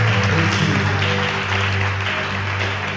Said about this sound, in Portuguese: Você pode aplaudir o Senhor por isso, por essa palavra,